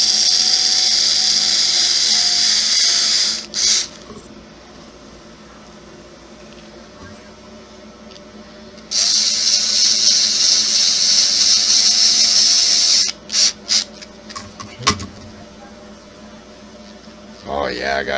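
A power drill driving screws into an HPI Crawler King RC car, two long high whirring runs separated by a quieter stretch, followed by several short trigger blips.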